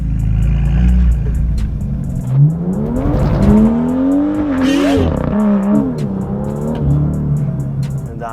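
A stage 2 tuned BMW M2 with 428 hp accelerates hard in sport mode: the loud engine note climbs through repeated rising revs with brief shift breaks, close and dominant, with no clear speech over it.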